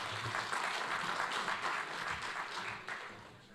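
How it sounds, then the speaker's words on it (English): Audience applause welcoming two speakers onto a stage, a steady wash of many hands clapping at moderate volume throughout, slightly fading toward the end. "Let's have a nice round of applause for Jason and Robin."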